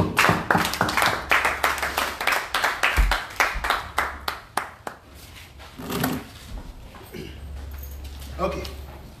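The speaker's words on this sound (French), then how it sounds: "Acclame encore Jésus" A church congregation claps in quick rhythmic bursts, with cheering voices rising and falling over the applause in a reverberant hall.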